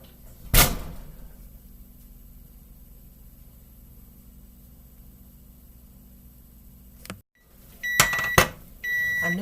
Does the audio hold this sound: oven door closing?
yes